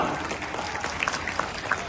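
A Ramleela crowd claps in a sustained, somewhat distant wash of applause, with a few sharper individual claps and faint cheers poking out above the steady patter.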